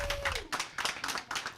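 An audience at a middle school Family Feud show claps for team number 1 in quick, irregular bursts, with brief gaps between rounds of clapping and a voice faintly audible at the start.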